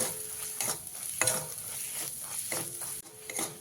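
Turmeric, Kashmiri chili powder and salt being stirred in a hot pan for a Bengali pabda fish curry, with steady sizzling and repeated scraping strokes of the spoon at close range.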